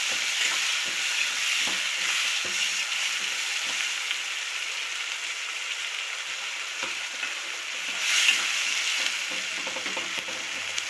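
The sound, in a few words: onions and tomatoes frying in a pan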